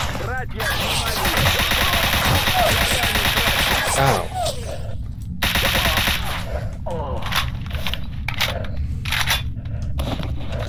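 Gunfire in the video game Stalker Anomaly, with bursts of rapid automatic shots and scattered single cracks that are loud and dense at first and then thin out into sparser shots.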